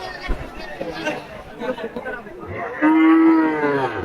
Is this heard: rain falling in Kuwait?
no